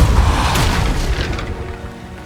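A spell-casting blast in the Hogwarts wizarding video game: one loud, booming burst of force that starts at full strength and rolls off gradually over two seconds, with no talk over it.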